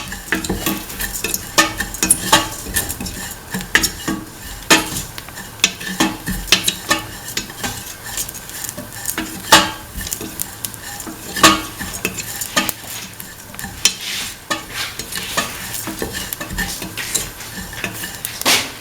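Spices are stirred in a sizzling frying pan for cumin rice, with continuous close scraping of a spoon against the pan over a steady frying hiss.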